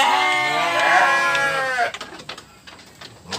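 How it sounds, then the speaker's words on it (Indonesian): A sheep gives one loud, drawn-out bleat close by, which cuts off sharply and leaves a few quiet clicks and soft background noise. "Ini domba"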